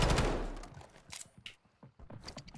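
A short burst of gunfire in Warzone opens loud and close, then trails into fainter, scattered shots and rattles.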